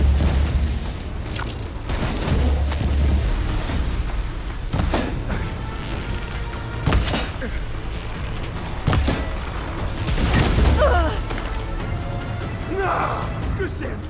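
A heavy cannon fires repeatedly in the video game Horizon Forbidden West, Burning Shores, with booming blasts spread across a loud, dense battle mix while voices talk over the fighting.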